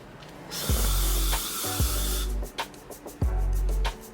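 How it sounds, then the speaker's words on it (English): Three bursts of aerosol hair spray on a glueless body wave wig hiss loudly, each lasting about a second, separated by short pauses and faint handling clicks. "we're gonna spray it backwards like that"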